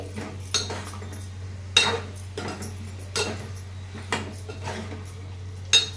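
A spoon stirs yam curry (kanda pulusu) in a metal pot, producing irregular clinks and scrapes over a low steady hum.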